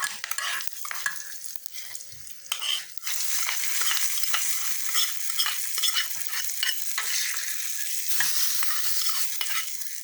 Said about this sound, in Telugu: ఇప్పుడు దీంట్లో చక్కగా కరివేపాకు, ఒక రెమ్మ వేసేసి ఈ పోపుని